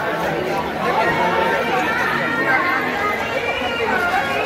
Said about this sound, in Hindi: तो आज और यहाँ पे काफी ज्यादा भीड़।